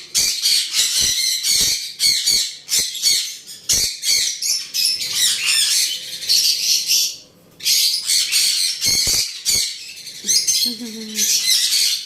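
Pet birds, a male out in the open and a female inside a cage, squawk and chirp loudly and close up in dense, nearly continuous bursts, broken by brief pauses, with faint human voices underneath.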